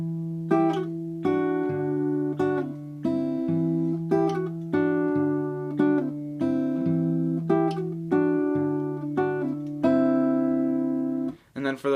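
Acoustic guitar fingerpicking the main riff of a song, a repeating pattern of plucked notes over a moving bass line, played steadily and up close with no voice.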